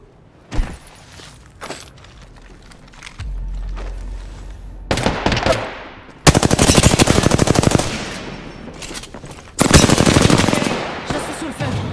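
Gunfire in Apex Legends: a few scattered single shots and movement sounds first, then long, loud bursts of rapid automatic fire close by, with pauses between bursts and a voice briefly audible in between.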